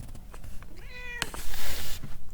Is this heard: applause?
no